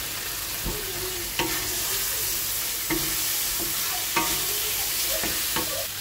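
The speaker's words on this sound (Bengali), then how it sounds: "এইদিকে আমার মশলাটা কষানো হচ্ছে" Spice paste and fried potatoes for a jute leaf fish curry sizzle steadily in a pan, while a spoon scrapes and stirs through them in regular strokes.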